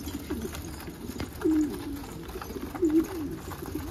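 A pigeon coos twice in a garden, low throaty calls set against a faint, steady outdoor background with no talking.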